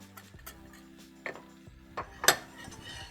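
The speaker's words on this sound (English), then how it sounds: "Whisk them together well." A whisk works flour, salt and mustard powder into melted butter in a pan, making light metallic clinks and taps that build into a brief, brighter clatter near the end. Close and with no voices.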